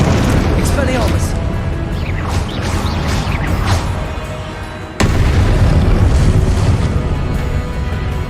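Fiery spell blasts in Hogwarts Legacy gameplay go off as a string of loud booming explosions, one sharp burst near the middle, over a dense mix of game sound and music.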